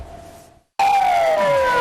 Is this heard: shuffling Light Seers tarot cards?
no